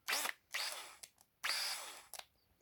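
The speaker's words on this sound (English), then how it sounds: "this particular drill. I guess it's a variable speed, so it goes faster" A variable-speed power drill used while assembling a Flexispot standing desk whirs in three short bursts of rising pitch, each separated by brief clicks of the trigger, close and clear.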